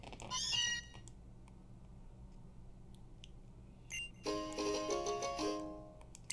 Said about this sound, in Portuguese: Miau tá me acordando.